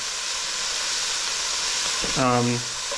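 Meat for Japanese curry sears in a hot pan with a soft, steady sizzle, and a short burst of louder hissing and crackling rises near the end.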